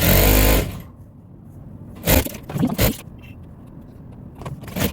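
A sewing machine stitches the lining of a hair bonnet, opening with a loud run of under a second, then a few short bursts and handling sounds against a quiet background.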